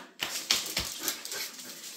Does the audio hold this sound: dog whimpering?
yes